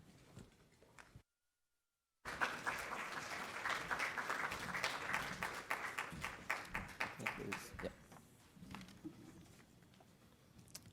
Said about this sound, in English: I think we should give them another applause.